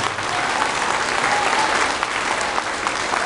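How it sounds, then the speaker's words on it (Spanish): A crowd at a religious festivity in San Miguel Xico applauds loudly as it bids farewell to a group of nuns, with thick, continuous clapping that fills the space without a break. "Les damos y despedimos con un fuerte aplauso a nuestras queridas hermanas de la vida"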